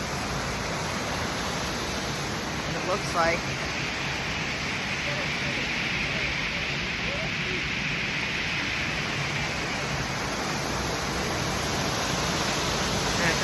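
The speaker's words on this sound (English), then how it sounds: "this is the bottom of the gorge where the waterfall empties" Waterfall emptying into the bottom of a gorge in New Hampshire, a steady broadband rush of falling water heard continuously at moderate level, with brief talk over it.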